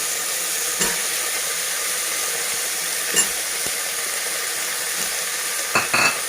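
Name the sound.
frying and stirring french beans with potatoes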